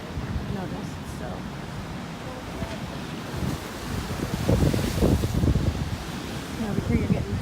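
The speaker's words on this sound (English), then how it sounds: "Now over here you're getting huge splashes of water." Pacific Ocean waves crash and splash against rocks at a coastal cauldron on the Oregon coast, a steady roar under wind buffeting the microphone, swelling louder midway.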